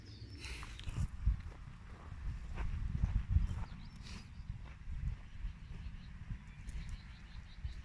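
A horse walks in the rain in the New Forest, its hooves giving a steady, irregular clip-clop at moderate distance, with faint birdsong and outdoor ambience behind.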